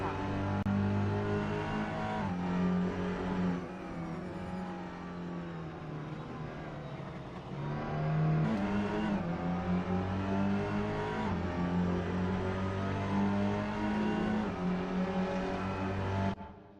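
Touring car engines from a sim racing game roar continuously with rising and falling revs through gear changes, loud and close throughout, with a voice talking over the engine noise.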